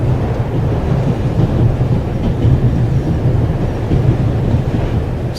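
A train runs in The Raven video game, giving a continuous heavy rumble with rhythmic low clatter that holds steady and loud from start to finish, with no voices.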